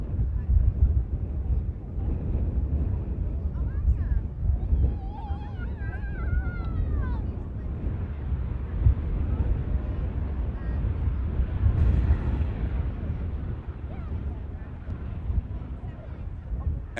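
A Flexjet Embraer Praetor business jet lands at Manchester Airport with its bucket thrust reversers deployed, a loud, sustained low engine roar with wind buffeting and some whining tones, heard from a distance outdoors.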